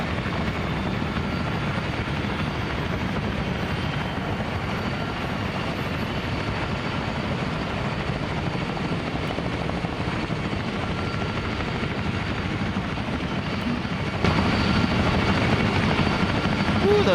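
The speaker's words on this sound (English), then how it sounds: "Ooh, those choppers are loud." Helicopters in a military video game roar overhead in a loud, steady, continuous rotor drone that grows slightly louder toward the end.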